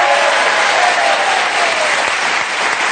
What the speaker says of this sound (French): les applaudissements devraient être beaucoup plus nourris